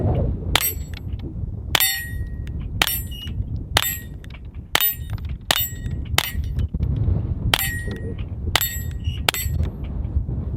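A Taurus TX22 pistol fires Federal Suppressor rounds at steel targets, about eleven sharp cracks at irregular one-second intervals, each followed by a bright metallic clang from the struck steel.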